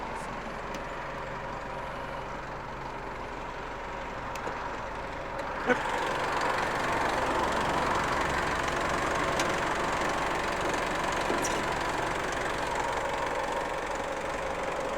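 A stock 2.5-litre diesel engine of a 2014 Isuzu D-Max Spacecab pickup idles with a steady low rumble and knocking, growing noticeably louder partway through and holding that level, heard up close with the hood open.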